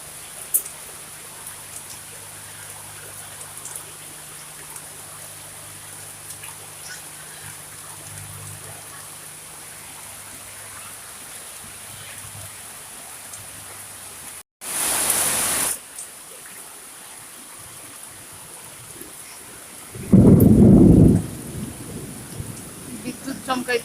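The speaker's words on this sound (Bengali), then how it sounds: "বাইরে তো প্রচন্ড বৃষ্টি আছে সকাল থেকে" Heavy rain falls steadily outdoors as a constant dense hiss, broken by two brief louder bursts partway through and near the end.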